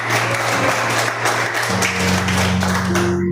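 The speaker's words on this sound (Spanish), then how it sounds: "Denle un aplauso al Señor." A church congregation applauds, dense clapping that runs continuously at moderate level with a sustained tone underneath and no talk over it.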